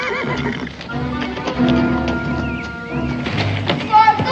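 A horse whinnies loudly in a 1969 Western drama scene on the frontier, with hoof clatter and shouting voices mixed in around the neighing.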